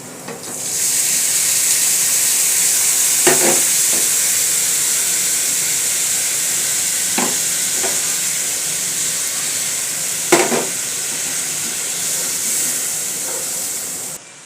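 Spice paste with turmeric, chili powder and salt hisses and sizzles steadily in a hot pan while being fried and stirred, with a few louder stirring clatters breaking through the constant frying noise; no one speaks.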